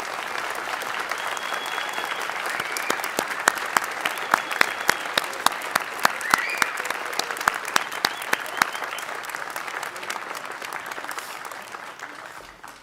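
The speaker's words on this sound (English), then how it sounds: "Let's have another round of applause for our graduates." Commencement audience at a university fall graduate ceremony applauding the graduates: sustained, full-hall applause with crisp individual claps standing out, steady for about ten seconds before slowly thinning and fading out.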